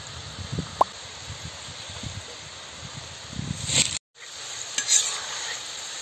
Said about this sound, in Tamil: பாருங்க எப்படி வந்து முறுமுறுன்னு அந்த சவுண்டு கிறிஸ்பி சவுண்டு எப்படி வருது பாருங்க